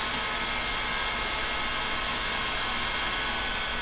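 A heat gun blows hot air while PVC surfaces are warmed for gluing in a bow-building workshop: a loud, steady, broad rushing roar that holds constant from start to finish.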